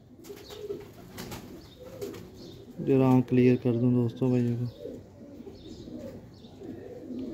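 Kasuri Kamagar pigeons coo close by in a burst of repeated, throbbing calls, flanked before and after by someone talking over faint background noise.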